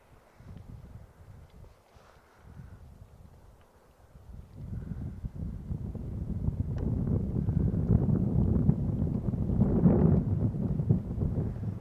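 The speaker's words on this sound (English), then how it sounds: "It's definitely breezy here, especially this morning." Breezy morning wind buffets the microphone beside a mountain lake, with soft rustling at first, then building into a steady, louder gusting roar that fills the background without any talk.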